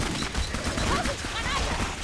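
Rapid gunfire from the shooter Clive Barker's Jericho crackles in dense bursts over game noise and other effects.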